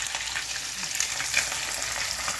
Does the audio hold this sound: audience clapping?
no